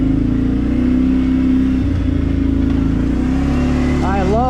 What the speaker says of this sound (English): I love that V-twin sound.